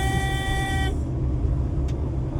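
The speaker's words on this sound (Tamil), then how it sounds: "ஹாரனை அடித்து விட்டேன்" A loud car horn blares for about a second, then gives way to the rumble of traffic and engine noise.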